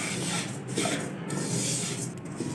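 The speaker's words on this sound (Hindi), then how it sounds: "खुशबू आने तक भूनते जाएंगे अलसी को चम्मच चलाते हुए।" A spoon stirs flax seeds roasting in a pan, giving a soft continuous rubbing and rasping scrape at close range with no speech over it.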